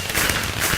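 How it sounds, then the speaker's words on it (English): Fireworks bursting in quick succession after a Miami Grand Prix Formula 1 race, a continuous crackling barrage of sharp pops that stays loud and dense throughout, with no voices. "Oh, we got the fireworks going on."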